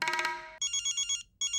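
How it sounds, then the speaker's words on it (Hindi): An incoming call rings on a telephone: a bright electronic ringtone plays a quick melodic phrase, then repeats in short pulsing beeps, loud and close with no talking. "अभी किसी भी वक्त सारा मैडम का फोन आना चाहिए"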